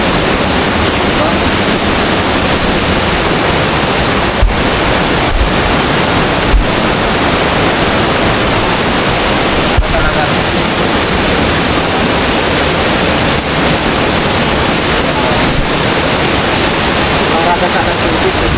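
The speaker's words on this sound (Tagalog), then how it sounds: "sobrang lakas ng agos" A strong, swollen river current rushes in a loud, unbroken roar of water that fills the whole span, dense and close with no pauses.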